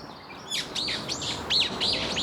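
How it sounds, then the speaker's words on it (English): Loud birds sing and chirp in repeated bright, sweeping calls during a hot summer walk along the coast from Hamdeok Beach toward Jeju City, Korea, with steady outdoor ambience beneath. "Jeez, those birds are fucking loud."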